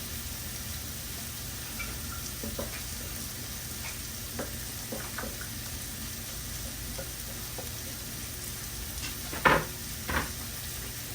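Onions frying in extra virgin olive oil give a steady low sizzle, with a few soft clatters and stirring knocks of a pan or utensil rising above it near the end.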